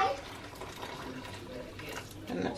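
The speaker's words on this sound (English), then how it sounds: "I'm going to get the kettle. I'm going to put a little bit more water in there." Water poured from a kettle into a cooking pot while Caribbean stewed beef cooks, a faint, uneven splashing trickle in a home kitchen, close by, with no talk.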